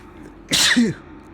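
A single sharp sneeze bursts out loud and close, with a quick breathy onset and a voiced tail, standing alone in a quiet room.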